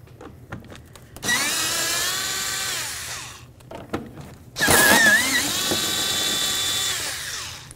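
A power tool whirs close by, loosening bolts on a Ford Expedition exhaust manifold. It runs in two long, loud bursts whose pitch rises and then falls, separated by a short pause with light clanking.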